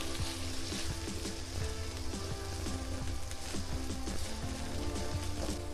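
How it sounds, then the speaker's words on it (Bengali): Ginger-garlic paste masala sizzling in a hot pan as it is stirred and sautéed, a steady crackling fry with soft scraping of the spatula throughout, close and even. "পুরোটা মশলা আমরা ভালো করে কিছুক্ষণ কষিয়ে নিব নেড়ে চেড়ে"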